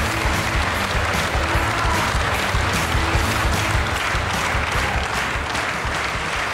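A large studio audience on an Armenian TV show breaks into sustained, dense applause, loud and even, with many hands clapping together for several seconds.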